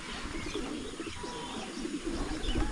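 Pigeons coo softly and repeatedly close by, with a few light chirps over a low, steady background hum.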